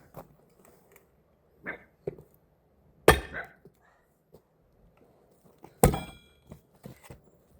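A firewood log is struck to split it on a village farm, giving two heavy, sharp thuds a few seconds apart among lighter scattered knocks and bumps, close by with quiet gaps between.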